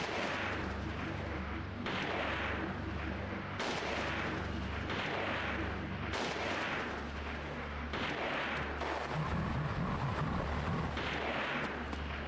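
Repeated heavy gunfire bursts in the PS2 horror game Siren, loud and continuous, the shots running together in rough pulses with no speech.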